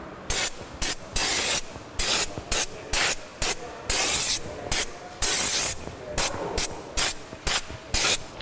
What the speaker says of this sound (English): get the face mask on, and then we're gonna do our cleaning